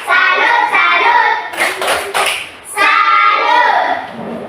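A class of children in a school lesson does the rhythmic "tepuk salut" clap, loud, close bursts of patterned hand claps in a quick beat, with children's voices chanting along between the clap groups.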